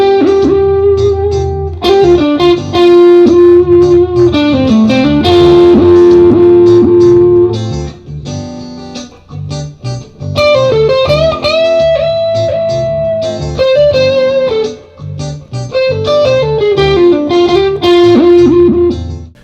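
Electric guitar with a whammy bar being slapped, the pitch wobbling and warbling around sustained distorted notes with an effects-laden tone, played alone in loud bursts with brief pauses.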